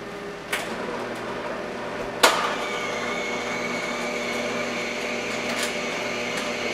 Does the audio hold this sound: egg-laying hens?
no